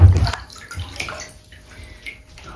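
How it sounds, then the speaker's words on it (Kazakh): A heart-shaped bath bomb drops into a tub of water, giving one splash at the start that settles into soft fizzing and gurgling close by. "Енді жүрек бомбочка бар. Кәне, салшы суға көрейік."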